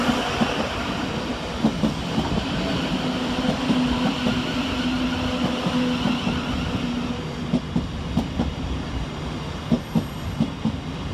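A Class 700 electric passenger train rumbles and clatters close by arriving at Three Bridges station, with rhythmic wheel clicks on the rails and a steady low hum as it rolls in.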